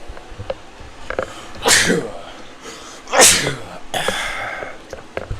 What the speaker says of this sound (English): I'm over here sneezing.